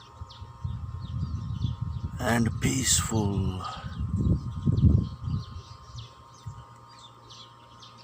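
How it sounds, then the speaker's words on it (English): Birds chirp and tweet in trees in a natural setting, with faint repeated high calls scattered through the background, partly masked by a soft voice speaking over a low hum. "Nature bird sounds"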